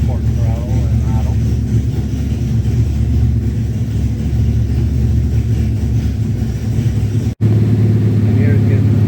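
A 383 cubic inch LT1 V8 running on a dyno with flex fuel, a loud steady engine rumble that holds through the stretch, with a brief dropout before the idle settles in lower.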